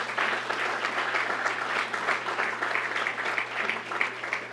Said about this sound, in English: some applause.